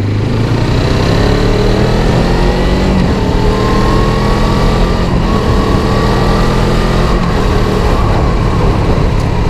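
A Suzuki Inazuma GW250 motorcycle with a 3Tech exhaust and dB killer fitted: a steady, muffled engine hum rolls along with a soft, subdued exhaust note, continuous and fairly close, with no sharp revving.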